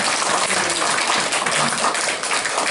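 A church congregation breaks into dense, continuous applause during a Sunday service. The sound is a loud, even wash of many hands clapping at once, sustained throughout.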